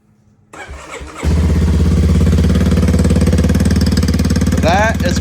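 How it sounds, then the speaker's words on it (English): A Kawasaki KLX230 dirt bike with a ProCircuit full exhaust, spark arrestor removed, cold-starts after a brief crank and settles into a loud, steady, high-revving idle close by; a short squeak is heard near the end. "Quick fire up, cold start. So you know it's gonna rev to the moon."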